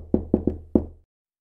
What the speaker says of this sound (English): he knocked on the door.